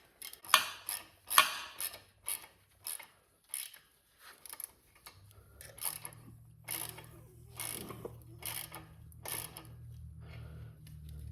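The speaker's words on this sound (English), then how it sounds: "I like to start with just a standard socket" A socket ratchet tightens exhaust bolts on a wrecked Harley Sportster during a Cobra 2-into-1 install, clicking close by in short bursts of rapid pawl ratcheting separated by brief pauses.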